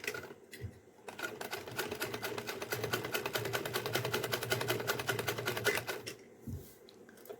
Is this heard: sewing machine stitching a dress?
yes